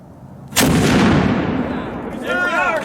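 A Revolutionary-era cannon fired with raw powder at a demonstration lets out one loud, close blast that decays in a long rolling rumble, followed by faint voices.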